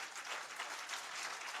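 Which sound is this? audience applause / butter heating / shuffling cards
audience applause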